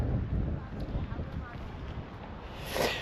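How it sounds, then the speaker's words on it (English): Wind buffets a fisherman's tent outdoors, a low rumbling rush of gusts against the fabric that swells again near the end, with a voice briefly speaking. "There goes another gust."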